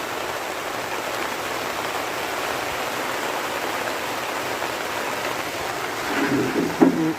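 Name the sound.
heavy rain with thunder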